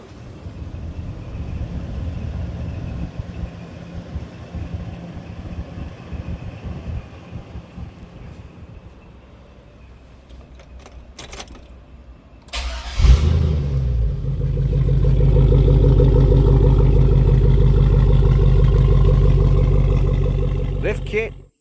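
A lifted Escarado truck with a cheap straight-pipe exhaust and no muffler idles with a rough rumble under talk, then revs up into a loud, steady, deep drone that holds close for several seconds.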